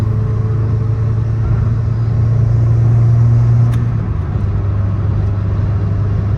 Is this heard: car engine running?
yes